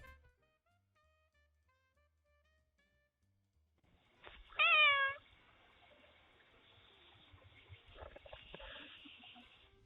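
A cat returning home meows at the door, one clear rising-falling meow midway after quiet, followed by faint rustling and muffled background noise.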